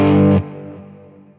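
A muffled, dark electric guitar chord on the bridge pickup through a J.Rockett HRM overdrive pedal with the mid-range low strikes once and rings out, decaying alone over about a second.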